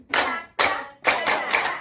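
A group of people at a laughter session claps together in a rhythmic exercise, three then more sharp, unison bursts, each crisp onset followed by a short decay, close and clear with almost no talk.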